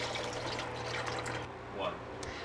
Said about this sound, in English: I'm adding about 4 cups of chicken broth to each of these pots, and then we're going to add in water